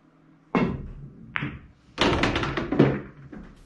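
A pool cue strikes the cue ball during a cut-shot practice drill. Several sharp knocks sound close by, and a cluster of clacks from balls colliding follows, then settles.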